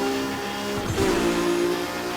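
A car driving in the racing video game Burnout Paradise, with a steady engine drone throughout and a brief surge around the middle, heard alone at moderate loudness.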